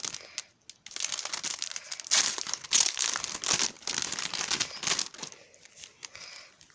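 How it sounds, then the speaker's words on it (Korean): Packaging on a boxed Irene El collector doll is torn and crumpled open up close, with bursts of crinkling and ripping that pause briefly between grabs. "아 진짜 아 일단 이것부터 뜯어볼게요"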